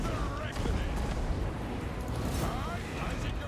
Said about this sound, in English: Flame cannons are doing such a marvelous job.